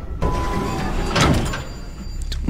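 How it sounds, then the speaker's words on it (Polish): An elevator door slides along in the horror game SCP Containment Breach, a loud mechanical rumbling glide that starts abruptly and carries on for a couple of seconds with a clunk near the end. "Ale straszna winda, no... Inna niż wszystkie drzwi."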